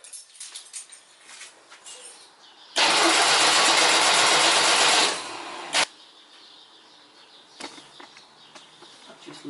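A flooded car engine fires up on a bit of choke, catching abruptly into a loud rough run for a couple of seconds, cutting out, then coughing again briefly, with quiet mechanical clatter around it.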